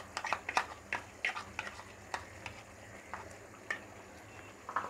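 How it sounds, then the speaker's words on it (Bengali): Beef pieces frying in a pan for a spiced Bengali beef bhuna give a soft sizzle broken by irregular clicks and scrapes of stirring, fairly quiet and close, with no talking. "খুব সুন্দর গন্ধ ছেড়েছে মাংসটা, ফ্রাই হয়ে গিয়েছে।"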